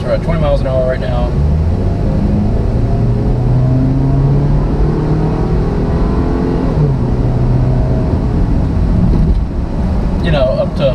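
A 2012 Chevrolet Equinox with about 90,000 miles accelerating at roughly three-quarter throttle from around 20 mph, engine drone rising steadily in pitch from inside the cabin, with someone talking over it at start and end.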